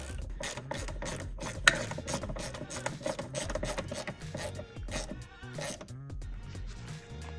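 Rapid clicking of a ratchet turning a 6mm Allen bit on a BMW E60 M5 ABS module, close and loud with quick bursts of pawl ticks broken by short pauses and repositioning, no talking.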